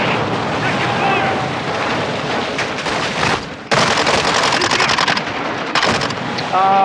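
Rapid automatic gunfire from a Call of Duty Modern Warfare 2 match on PS5, dense bursts crackling almost continuously with short gaps, loud and close, with faint voices underneath.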